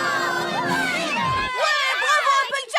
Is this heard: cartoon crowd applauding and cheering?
yes